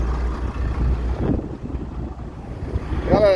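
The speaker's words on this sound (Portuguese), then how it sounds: "Galera, é aquele vento quente." Hot wind rushes past on a road trip through the Pernambuco backcountry, a loud steady buffeting roar against the microphone from start to finish, with no talk.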